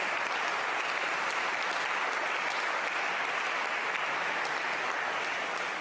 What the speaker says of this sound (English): Will you give them all a round of applause, please?